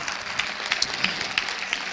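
A church congregation claps for Jesus during a Sunday morning service, producing a soft, dense patter of many hands with a few sharper claps standing out, fairly distant and without talk.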